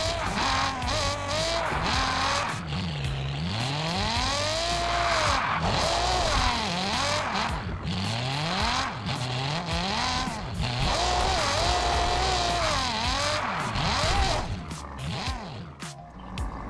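A Toyota Supra MK4 drifts in Car Parking Multiplayer. Its engine revs rise and fall in loud, sweeping waves over continuous tire squeal for the whole stretch, close and dense with no break.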